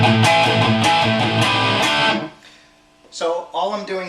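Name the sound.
inverted power chords on distorted electric guitar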